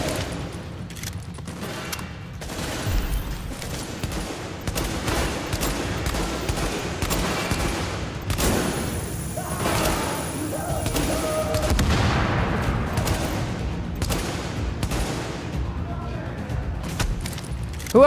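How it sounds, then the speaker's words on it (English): Gunfire from The Division played on hard difficulty, with a shotgun among the weapons: rapid bursts and scattered shots crackle densely throughout, loud and continuous, mixed with game noise under a player's talking. "He's trying to shoot at me with a shotgun from across the freaking world"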